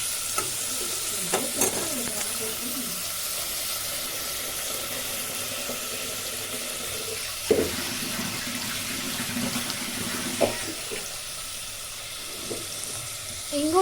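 Chopped leafy greens frying with tomatoes in a pan give a steady soft sizzle, broken by a few sharp stirring clatters and a brief burst of tap water near the end.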